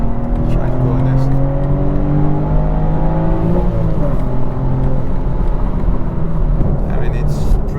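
A 2021 BMW M4 engine accelerates hard, its rising harmonic note climbing steadily through a gear change midway, loud and close inside the car with road noise underneath.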